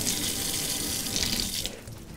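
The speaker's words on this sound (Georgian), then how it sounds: "წყალს გავავლებ." Tap water runs steadily into a sink to rinse two stems of fresh oregano, a continuous close hiss and splash with no voices, fading toward the end.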